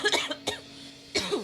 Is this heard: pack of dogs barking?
no